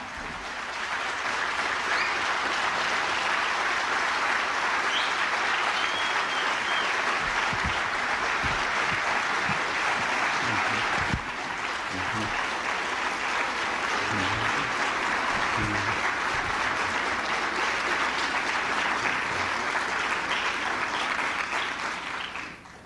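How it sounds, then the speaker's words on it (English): A standing audience gives sustained, loud applause for scholar Dr. John Henrik Clarke, a dense, even roar of many clapping hands that carries on for over twenty seconds without letting up. "I ask that you help me by standing and giving a round of applause for our scholar, Dr. John Henrik Clark."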